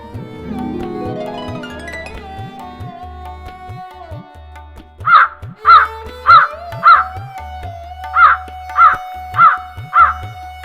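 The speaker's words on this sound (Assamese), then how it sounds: "সেই সময়তে এটা চৰায়ে ৰত্নখনক খাদ্য বুলি ভাবি চুচত লৈ উৰি গ'ল" A cartoon bird calls in an animated Assamese folk tale. Eight sharp, rhythmic squawks come in two groups over soft background music, loud and close.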